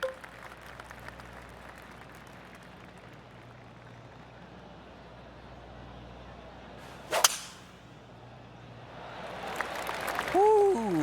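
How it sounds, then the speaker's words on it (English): A golf tee shot on a par 4 in the video game PGA Tour 2K25: quiet ambient bed, then a sharp loud club strike with a short whoosh at mid-clip, followed by rising crowd cheering near the end. "And now teeing off on this par 4."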